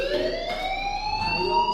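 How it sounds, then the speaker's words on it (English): A fire alarm in the video game Life is Strange wails as a steady, loud electronic tone with slowly rising pitch, sustained without a break. "Hey, do you hear that fire alarm?"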